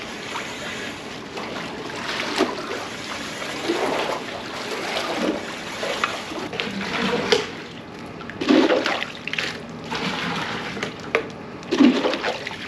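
Water draining from a swimming pool with algae, gurgling and sloshing outdoors in irregular surges, louder swirling bursts rising and fading over a steady watery wash, with no talking.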